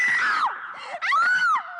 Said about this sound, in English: The only thing I don't like about that lady is her scream.